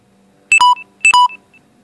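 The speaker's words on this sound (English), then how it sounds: "Sorry about that, guys. That's just my phone." A mobile phone chimes twice in a short electronic two-tone pattern, each burst a bright beep followed by a sustained lower tone. The sound is loud and close, with quiet between the repeats and no talking.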